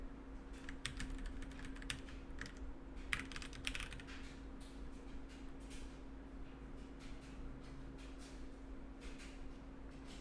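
Computer keyboard keys click in quick, irregular bursts of typing, faint and close, over a steady low electrical hum.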